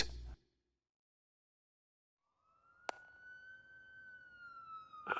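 A police car siren from the Batman Telltale video game rises out of silence and holds a long, steady wail that grows gradually louder, with a sharp click partway through and a brief burst of game sound at the start.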